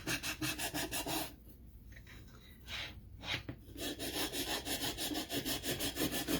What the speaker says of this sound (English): for edges, interestingly enough, the acrylic file works pretty dang good